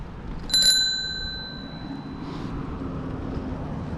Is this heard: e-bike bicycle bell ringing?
yes